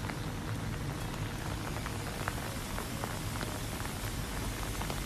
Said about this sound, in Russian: Дождь хорошо нас обложил.